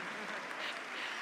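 Audience applause at a school district address, brief and even, a soft wash of many hands clapping together.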